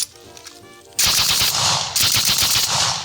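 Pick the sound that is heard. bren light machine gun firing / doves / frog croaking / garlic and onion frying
bren light machine gun firing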